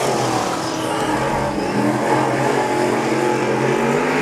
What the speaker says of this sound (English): Wow, listen to those revs down the back straight.